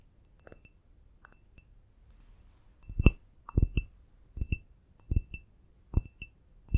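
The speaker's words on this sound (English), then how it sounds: "I wanted to start off with this glass." Hand-blown Italian glass is handled up close in a quiet room, giving soft taps and bright clinks, sparse at first and then a steady series of light knocks.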